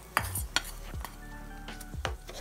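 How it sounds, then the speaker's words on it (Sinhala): Spoon stirring freshly tempered spices into a breadfruit curry in a pan, several quick scraping strokes with metallic knocks over a soft, steady sizzle, close and alone. "දැන් මේ තෙම්පරාදු අපි හදාගත්ත දෙල් කරියකට දාගෙන හොඳින් මිශ්‍ර කරගමු."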